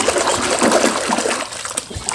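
Water splashes and trickles close by as toy cars and trucks are washed in a basin of clean water, a busy irregular sloshing with small drips.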